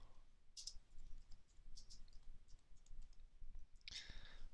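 Crisp computer mouse clicks at a desk, with a quick double click near the start and another near the end, sharp and close over a faint low room hum, with no voice.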